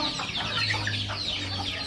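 Desi country chickens cluck softly and mutter in a close group, with a low steady hum running underneath.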